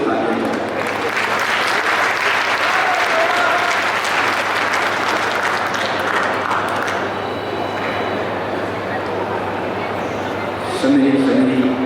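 A crowd at a district oath ceremony for newly elected officials claps in sustained, dense applause, loud and continuous, with a brief louder swell near the end.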